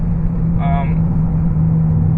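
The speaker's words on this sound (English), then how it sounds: "This car has aftermarket exhaust, AWE, and it can be quite loud." A VW Jetta with an AWE aftermarket exhaust gives off a steady, moderately loud low engine drone while driving, with a brief voice sounding over it.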